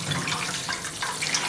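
Cold water runs steadily from a tap in a continuous, even splashing hiss, fairly close and moderately loud, with no talking.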